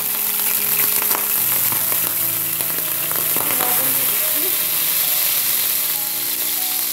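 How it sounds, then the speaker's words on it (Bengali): Oil sizzles and spatters steadily in a pan as sardines go in for a Bengali-style curry, a continuous close frying crackle with scattered pops and a faint clink of utensils, no talking. "এটা কিন্তু দিলেই ছেটাফিটি করে তেলটা, কারণ পানি তেল একসাথে থাকে।"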